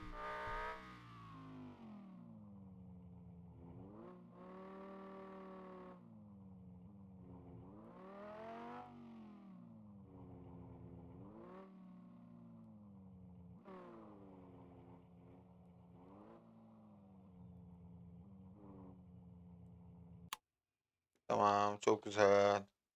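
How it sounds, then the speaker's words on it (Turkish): A virtual car engine in Car For Sale Simulator 2023 hums and revs in repeated swells of rising and falling pitch for about twenty seconds, steady and moderate, ending in a short burst of louder noise. "Arabanın sesine bakar mısın ya?"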